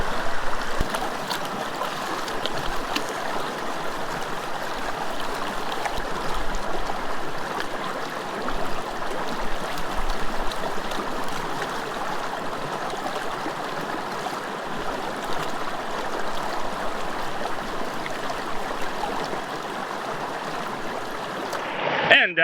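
Gold panning in a river bar of big cobbles, with steady close rushing and trickling water swirling throughout, continuous and fairly loud, and no clear speech.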